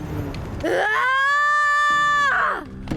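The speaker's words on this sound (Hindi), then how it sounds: "उसने अपना मुंह खोला और बहुत जोर से चिल्लाई।" A creature lets out a very loud, sustained horror scream with a harsh rising onset, a long strained tonal middle and a falling tail, close and dominant.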